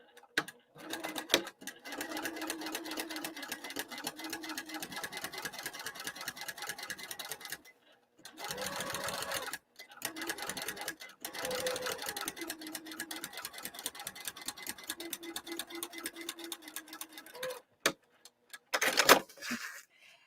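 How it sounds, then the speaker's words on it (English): A sewing machine top stitches a lining with a long stitch length, running in close, steady rhythmic runs broken by short stops, with a few sharp knocks near the end. "So that's why we're top stitching this down"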